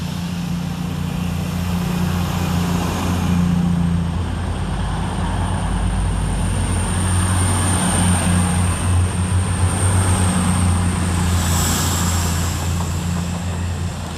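An East Midlands Railway Class 222 diesel multiple unit, 222007, pulls away from Leicester station with a steady low engine drone and rumble holding at constant loudness, no talk.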